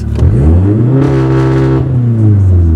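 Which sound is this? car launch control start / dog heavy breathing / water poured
car launch control start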